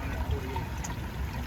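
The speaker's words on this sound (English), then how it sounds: "So the water comes down from the mountain right there." Hot spring water trickling down from a mountain into a bath area, a soft continuous liquid trickle with a gentle steady wash.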